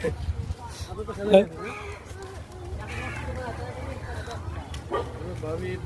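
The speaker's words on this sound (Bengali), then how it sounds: "এই যে অনেকগুলো কুকুর আছে।" Several dogs bark and yip at a roadside junction near Kutubdia, Cox's Bazar, intermittent and mid-distance beneath continuous conversation and outdoor bustle.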